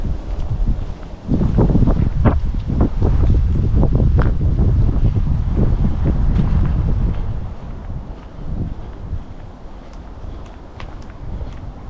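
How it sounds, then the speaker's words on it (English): Strong wind gusts roar and buffet the microphone in a Guildford cemetery, loud rumbling bursts that ease off to a gentler rushing noise toward the end. "It's a little bit of a windy day today."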